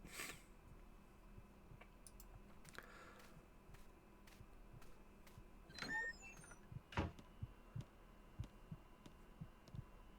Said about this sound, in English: Can hear a heartbeat